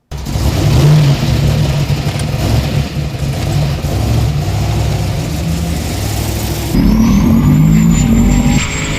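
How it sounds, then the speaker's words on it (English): A 1200-horsepower turbocharged 540 car doing a tire burnout, a loud sustained engine roar with screeching tires, the engine note rising and shifting pitch toward the end. "It is about blazing tires."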